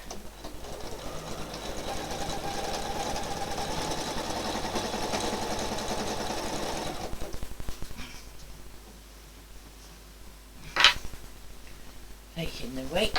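A sewing machine stitches in the ditch along flat fabric with a steady, close rattling run for several seconds, then stops. A few quieter clicks follow, and a voice talks over it.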